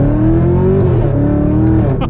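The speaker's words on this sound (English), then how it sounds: "Oh my goodness, this aftermarket exhaust, this Corsa exhaust. That is ridiculous." A 2023 Chevrolet Camaro ZL1 engine revs hard through an aftermarket Corsa exhaust, a deep rumbling roar that rises and falls, close and continuous.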